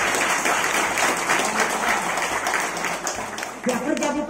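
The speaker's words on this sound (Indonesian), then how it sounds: "Tepuk tangan dulu dong untuk bupati" A crowd applauds the regent at an anniversary gathering of a Dayak Binua Landak cultural community. Dense, steady clapping fills the clip, with a voice speaking over it toward the end.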